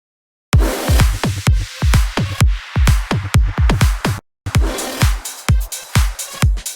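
Layered bass house drums built in FL Studio, punchy kicks and snappy hits pounding in a steady, loud groove with brief drop-outs between sections, no voices.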